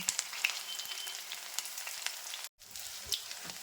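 Fish pakoras fry in hot oil and are flipped, giving a soft, crackly sizzle with small pops and scrapes, a brief break in the sound partway through, heard close but quietly with no voices.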